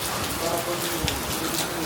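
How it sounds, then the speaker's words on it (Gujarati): Heavy rain pours down steadily on a surface nearby, a dense, even hiss with scattered louder drops, filling the whole moment without voices. "વરસાદ જો કેવો ફૂલ આવે છે."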